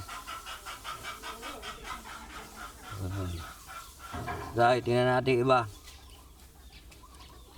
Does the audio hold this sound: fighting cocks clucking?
yes